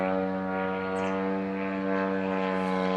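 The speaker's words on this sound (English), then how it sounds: "You see the drone flying on in, almost right overhead." A drone flies in over a city and passes almost directly overhead, its loud, steady buzzing drone with stacked harmonic tones holding throughout, close and dominant with no talk.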